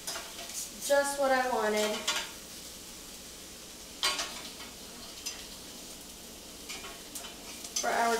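Vegetables such as eggplant sizzle faintly on a grill, with utensil clinks and scraping while a person talks.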